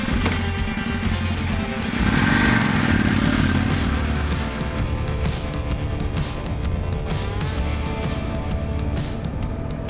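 An Indian Scout Classic cruiser motorcycle is ridden, its engine droning steadily and loudly up close with a brief swell in revs, accompanied by a continuous rumble and wind.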